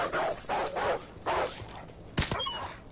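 Dog barks in Call of Duty: Modern Warfare Remastered, a few sharp yips and woofs spaced across the moment, followed by a brief gunshot-like crack, fairly close and loud.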